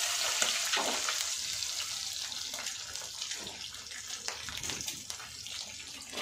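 Whole spices such as bay leaf, star anise and cinnamon sizzle steadily in hot oil in a pan, a continuous bright hiss with small crackles throughout and no voices.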